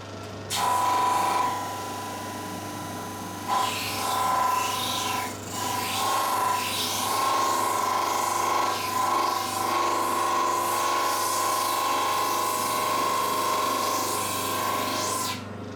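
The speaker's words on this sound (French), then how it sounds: "On va les nettoyer à la calibreuse." Thickness sander working on wooden strips cut for classical guitar linings, a steady close mechanical whine with rasping sanding passes over a motor hum, no talk.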